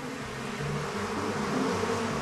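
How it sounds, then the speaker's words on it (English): Killer bees swarm at their nest in a dense, continuous buzzing drone, close and steady throughout with no voices. "this is a nest of the infamous killer bees."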